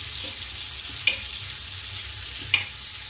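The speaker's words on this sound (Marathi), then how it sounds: "हे बघा तेल तापलं मी थोडं टाकून पाहिली होती मिरची आता आपण मिरची ॲड करू यामध्ये" Green chilies frying in hot oil in a home kitchen pan, with a steady soft sizzle and two sharp scraping clicks of a spoon stirring, close and alone without talk.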